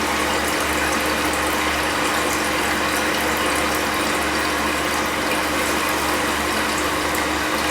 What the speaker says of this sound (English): the flapper's down, so the tank is beginning to fill